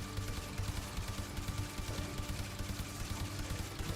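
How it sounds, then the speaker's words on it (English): A weapon in the video game Warframe fires on full auto as the magazine is dumped, a quiet but steady stream of evenly spaced shots repeating throughout without pause. "I just gotta dump the magazine a bit here to get the buff up"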